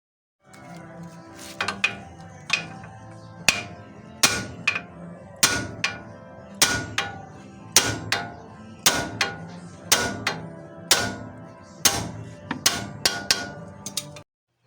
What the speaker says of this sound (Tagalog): pinukpok natin yan sa gilid, hindi siya babagsak